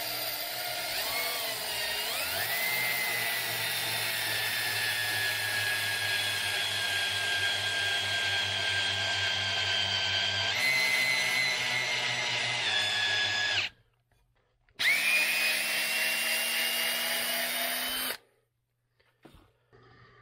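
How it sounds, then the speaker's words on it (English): A steady, high-pitched electric drill whine runs continuously while reaming valve guides on a 2011 Kawasaki KX250F engine, pausing briefly twice near the end before starting up again. "what I'm going to use is an electric drill"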